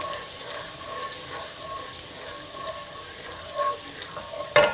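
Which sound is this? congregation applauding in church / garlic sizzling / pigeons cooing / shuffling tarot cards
garlic sizzling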